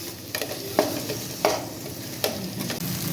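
Mashed potato being mixed into a banana flower cutlet mixture in a pan, with a soft sizzle under three or four sharp spatula scrapes spaced well under a second apart, close and alone with no voices.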